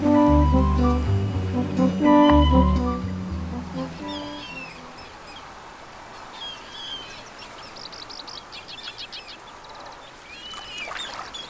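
Common moorhens call in a summer lotus wetland, with sharp chirps and squawks coming after a few seconds of strong music; the calls are moderately close and intermittent over quiet ambience.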